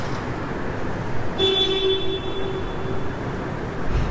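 A Montreal Metro train horn sounds once with a steady tone lasting about a second and a half, then fades, over a rumbling station ambience.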